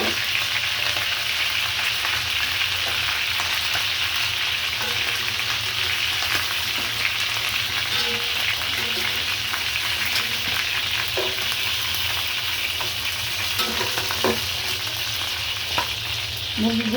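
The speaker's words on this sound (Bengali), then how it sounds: "এখন হচ্ছে রোস্টটা ভেজে নিব।" Three whole chickens seasoned with salt, chili, ginger and garlic fry in hot oil in a pan for roast, a steady loud sizzle with occasional stirring scrapes throughout.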